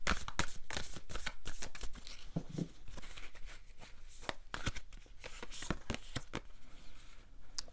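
Tarot cards being shuffled, a close, continuous run of crisp riffling and flapping bursts with brief pauses, loud and alone without talk.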